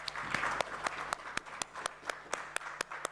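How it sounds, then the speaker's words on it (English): A few people applaud at the close of an innovation festival session, giving sparse, distinct claps at an irregular pace that stand out sharply above a quiet room. "A round of applause."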